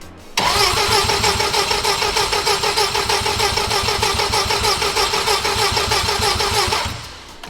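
A Mazda 13B rotary engine swapped into a Subaru FRS fires up abruptly and runs loud and close for about seven seconds with a steady pulsing, choppy rotary note, then cuts off.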